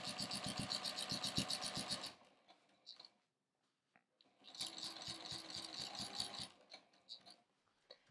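A domestic sewing machine stitches a quilt in two quick, rapid-fire bursts of needle clatter, separated by a short pause with a few soft clicks and handling sounds.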